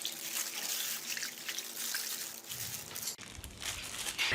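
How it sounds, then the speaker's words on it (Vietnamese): Boiled pork being rinsed by hand in a basin of clean cold water: soft splashing, sloshing and trickling close by, fairly quiet, with faint handling knocks. "Vớt ra rồi em thả vào trong cái thau nước lạnh nè, nước sạch. Mình rửa lại,"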